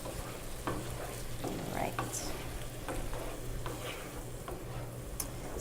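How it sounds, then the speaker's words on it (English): A thick curry sauce made with ketchup for tofu is stirred in a pan, giving soft scraping and a low steady sizzle, with one brief spoken word. "I'll make this sauce and then include the rest and stir around nice"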